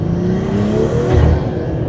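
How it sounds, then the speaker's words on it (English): A big-turbo BMW M340i running on E85 downshifts, a loud close engine roar with a brief rising blip and rumble partway through. "And this is what the downshifts sound like."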